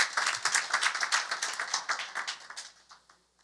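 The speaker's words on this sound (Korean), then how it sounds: "총재님과 총장님께 박수 한번 쳐드릴 필요가 있지" Audience members at a Korean lecture on filial piety culture clap in distinct, fairly close individual claps that start brisk and thin out, fading to silence by the end.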